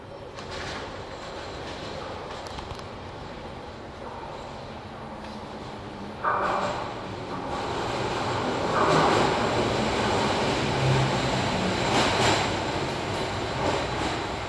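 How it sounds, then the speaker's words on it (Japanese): A Toei Oedo Line 12-000 series subway train, set 12-271F, bound for Roppongi and Daimon, pulls into a station at Nerima: a sustained underground rumble that swells, with rail clicks and brake squeal rising toward the end. "1番線に六本木大門方面行きが到着します。"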